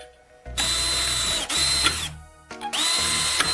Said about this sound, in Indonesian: Ambil sepotong kecil profil logam dan bor 2 lubang di dalamnya.